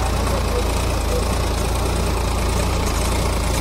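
Tractor engine driving a rotavator in third gear, a steady loud low rumble with knocking diesel texture running continuously and close, no talk over it.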